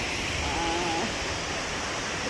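A big waterfall in the Dolly Sods Wilderness roars as a steady, broad wash of rushing water, continuous and close, with no talking over it.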